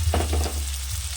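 Onion paste sizzling and frying in a pan for a Bengali fish curry, a short burst of hot oil crackle with light stirring, close and steady.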